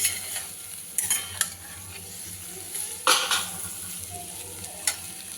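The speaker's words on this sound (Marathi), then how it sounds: "तुम्ही बघू शकता बटाटा हा आपला तेलामध्ये खूप छान असा परतलेला आहे" Potato slices fry in hot oil in a pan while being stirred, a steady sizzle broken by a few sharp scraping strokes of the spoon.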